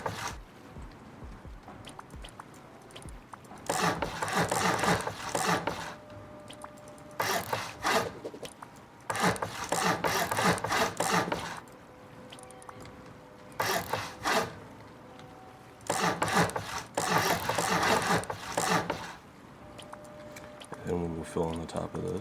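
Building pieces being placed and filled in within a survival video game, repeated scraping, sawing-like bursts of a few seconds each with short pauses between, steady and close.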